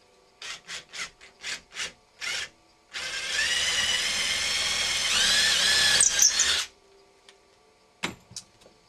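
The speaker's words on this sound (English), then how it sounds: "we're going to drill up into our stud at 45 degrees" A few short tool bursts, then a power drill whines steadily for several seconds as it bores up into a wood stud at 45 degrees, close and loud, before stopping.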